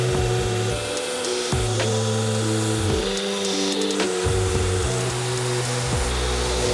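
Scissor tips for bonsai scissors, clamped together and ground to a matching profile: a loud, continuous grinder whine with rasping contact as the pitch repeatedly sags and recovers under load, close up with no voices.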